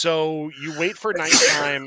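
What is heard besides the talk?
sneeze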